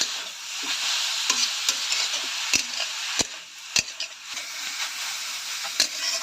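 Vegetables sizzle in hot oil while being stirred for a vegetable chop filling, with a steady close frying hiss broken by repeated sharp scrapes and clicks of the spatula against the pan.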